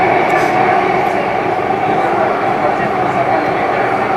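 A Singapore MRT train rumbles steadily through a tunnel, heard from the end of the train, a loud, continuous roar of wheels and air with no pauses.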